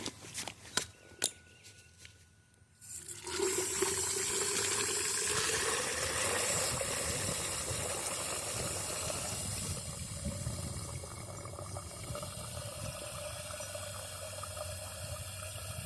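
A few taps and knocks, then a sustained rush of water pouring into a 2-inch deep root watering pipe in the ground, steady and close, gradually settling to a gurgling flow.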